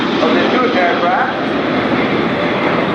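Patrulla Aguila jet aircraft flying the Plus Ultra formation display at the Royal International Air Tattoo, Fairford, a steady loud engine roar sustained throughout with a crowd and a commentator's voice mixed in.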